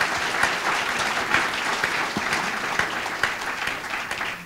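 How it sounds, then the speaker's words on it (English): An audience claps steadily for a panel of speakers at a discussion event, a dense, even round of applause with no talking over it. "A round of applause for all our panelists to start out."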